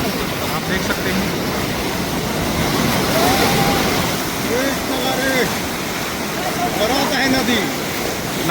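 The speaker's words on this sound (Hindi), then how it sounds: "नदी जबरदस्त भरते हुए" A swollen river in flood, the Ib river at Dhondhidand, Kunkuri, Jashpur, rushing and carrying large logs, makes a steady, loud broadband roar that continues without a break.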